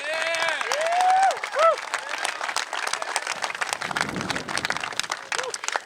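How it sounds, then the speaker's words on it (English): Applause and clapping from a crowd at an all-star rugby championship awards ceremony in a stadium in Houston, honouring coaches and managers, with whistling cheers over the dense clapping and voices mixed in. "give a real round of applause to the coaches and the managers"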